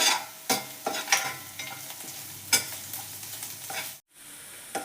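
Chopped onions and a lengthwise-sliced green chilli sautéing in a pan, with a steady sizzle broken by repeated spatula scrapes and stirring strokes, close and alone without any voices.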